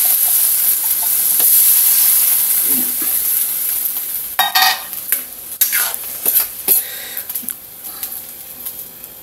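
Canned mackerel poured with its liquid into a pan of sautéed garlic, onion and ginger, loud sizzling and hissing that flares in several bursts, with spoon stirring close up and no talk.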